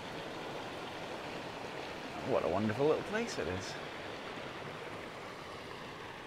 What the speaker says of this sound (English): I'm standing in the middle of the River Whiteadder